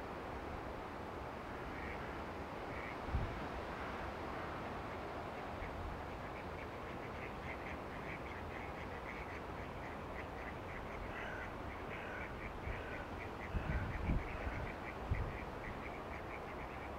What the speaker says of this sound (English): It looks like these are all the male ducks that didn't pair off.